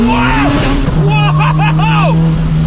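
A 1,000-horsepower Honda Civic EK3 hatchback revs loudly up close, its engine pitch climbing and falling in quick surges, with excited voices over it.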